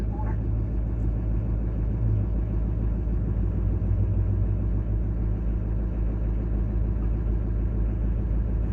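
A 2023 Chevy dump truck with a 6.6L Duramax turbo diesel idles after a cold start, holding a steady, loud, low rumbling drone that stays even throughout.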